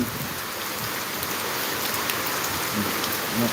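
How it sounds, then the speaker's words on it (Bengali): Dense, steady torrential rain pours down on flooded streets with a constant hiss, heavy and continuous without any talking. "প্রচণ্ড বৃষ্টি মুসলধারে বৃষ্টি রাজপথে তলিয়ে গেছে"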